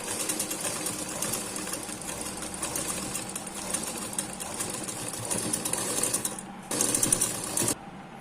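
A sewing machine stitches piping on a one-piece katori blouse with a steady, fast mechanical whir and rattle, close by. It surges louder briefly near the end and then stops.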